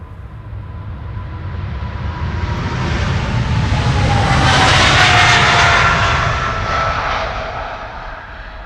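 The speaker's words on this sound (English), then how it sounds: "This is KLM Flight 713 to Paramaribo. This is a 777-300 ER." A KLM Boeing 777-300ER departing Amsterdam Schiphol roars past with loud jet engines, the rumble swelling to a peak midway then easing off as it climbs away, with a faint whining tone sliding downward.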